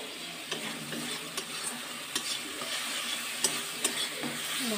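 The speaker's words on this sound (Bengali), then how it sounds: "মশলাটা মেলে নিচ্ছি ভালো করে, মশলা কষা হয়ে গেছে।" Spice paste frying in a pan over a stove, a continuous close sizzle broken by regular scraping strokes of a spatula stirring it, with no speech.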